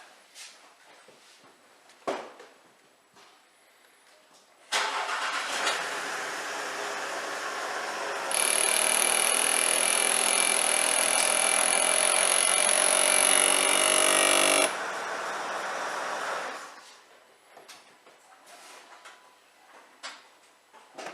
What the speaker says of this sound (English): I'll go and start the car and put the rear wiper on, and we'll see what it does, and listen to the noise.